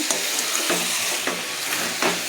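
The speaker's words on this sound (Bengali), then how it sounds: "চিকেন কারি মশলা। ভালো করে কষিয়ে নিই আমি।" Chicken curry masala sautéed and stirred in a pan, a continuous loud sizzle with spatula scrapes roughly every half second, close up and without speech.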